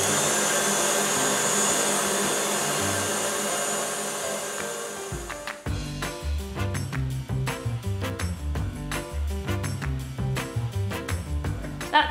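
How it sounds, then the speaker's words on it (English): An electric stand mixer whips meringue and buttercream for an orange and poppy seed cake, a steady high-speed motor whine for about five seconds that then breaks into a choppy, uneven churning with repeated thumps and bursts. "it's only at this stage can you now put up the speed and make sure all that meringue and buttercream is mixed in"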